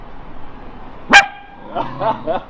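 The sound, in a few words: dog barking on canal walk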